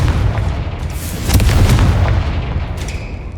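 The Confringo fire spell in Hogwarts Legacy bursts in a loud, booming blast with a rumbling low-end roar that swells and fades over a few seconds, with no talking.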